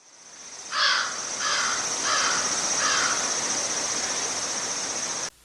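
Crows cawing in a rural setting, a run of four harsh calls in steady rhythm over a constant hiss of background noise, moderately near.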